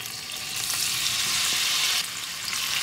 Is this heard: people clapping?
no